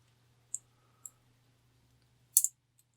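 Sharp clicks from the slider of a Loop'N Lock word lock being picked: two single clicks spaced about half a second apart, then a louder double click, then a faint final tick, in a quiet room.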